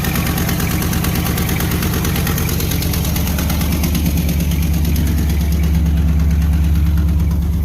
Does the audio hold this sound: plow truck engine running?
yes